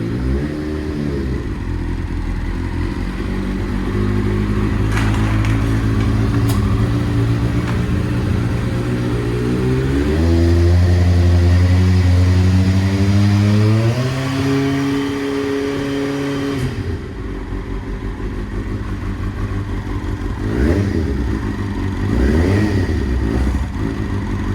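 A classic Subaru Impreza engine, not run for a while and started on choke, idles loud and close, then revs up and climbs in pitch several times before settling back to a rough, uneven warm-up idle.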